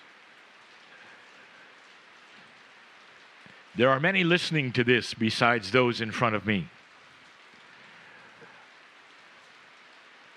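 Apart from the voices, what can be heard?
rain falling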